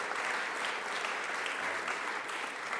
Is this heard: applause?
yes